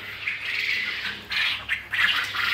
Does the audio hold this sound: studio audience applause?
no